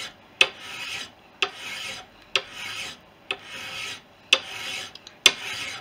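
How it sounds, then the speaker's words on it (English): Metal being filed with a fine mill cut file while making aileron bell cranks for a Fisher Youngster V aircraft: six evenly spaced rasping strokes, each opening with a sharp bite and then a softer trailing scrape, close up with no talking. "I'm going to use a finer file. This is a mill cut file, so we'll get a better finish with this."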